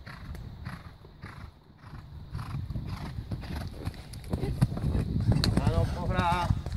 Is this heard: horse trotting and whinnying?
yes